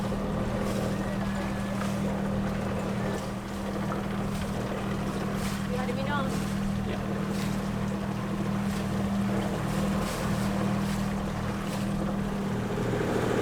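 A sailboat motoring upwind under engine power on open water, with a steady low engine drone and wind and wave noise throughout; voices talk faintly over it.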